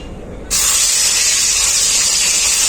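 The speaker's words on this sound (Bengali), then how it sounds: "ওই পটল ভাজার তেলেই আমি মাছগুলো ভেজে নেব" Rohu fish pieces sizzle in hot oil left over from frying pointed gourd. After a brief quiet start, a loud, steady frying hiss bursts in and holds without pause.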